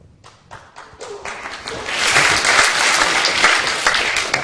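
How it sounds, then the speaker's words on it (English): Audience applause at a lecture hall event: a few scattered claps that quickly swell into loud, sustained clapping from a large crowd. "I was hoping I'd get that applause at the end of that."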